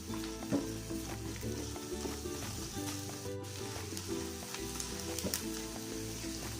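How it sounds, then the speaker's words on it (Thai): Garlic fries in hot oil in a pan for a chili-and-salt egg dish, giving a steady, close sizzle with light crackles and occasional stirring scrapes throughout. "เจียวกระเทียมไปเรื่อยๆให้เหลืองนะคะ"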